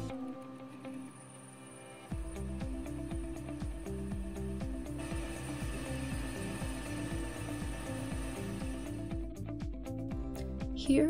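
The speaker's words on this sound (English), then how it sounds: "Another machine that students will be using is the lathe" A metal lathe in a student machine shop starts up after a quiet moment and runs with a steady, rhythmic mechanical whir and faint clicking, moderately quiet, before winding down near the end.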